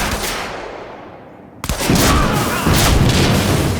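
Environmental explosions in the video game Quantum Break, from blowing up cars and barrels: a fading rumble gives way to a sudden loud blast followed by sustained heavy crackling roar.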